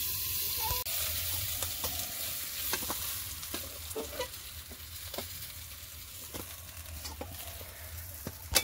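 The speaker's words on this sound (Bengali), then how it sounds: "আমি মাছটাকে ঢেকে দিয়ে দিয়ে ভাজবো" Fish frying in oil under a lid, giving a continuous close sizzle with scattered sharp spits and pops and no speech.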